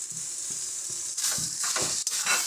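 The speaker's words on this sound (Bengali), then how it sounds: "মাছটা দিয়ে ভালো করে মিশিয়ে নেব।" Pre-fried shrimp stirred into a taro-stem mixture in a pan, with a steady bright sizzle of frying throughout and soft scraping stir strokes that get busier toward the end, fairly close and without talk.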